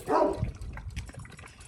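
A dog barks nearby, one loud bark at the start, then fainter low yapping and rustling noise as a dusky outdoor scene winds down.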